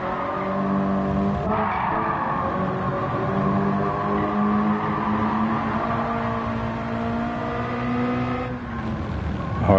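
A race car in Gran Turismo 7 brakes hard with a steady tire squeal over a droning engine, loud and continuous for most of ten seconds during a Nations Cup practice lap.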